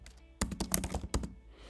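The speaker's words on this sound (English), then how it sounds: "start typing" Typing on a computer keyboard gives a short run of crisp key clicks, about half a dozen sharp taps in a quick irregular burst, close and alone without speech.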